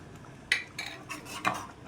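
A spoon clinks and scrapes against a pot while drumstick-leaf dal with garam masala is stirred, four or five sharp metallic taps spaced unevenly over a soft background, close by and without talk.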